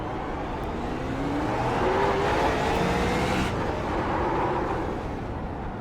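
A modified race car engine in iRacing at the LA Coliseum drones steadily at high revs, pitch rising and dipping through corners, continuous and close with no talk.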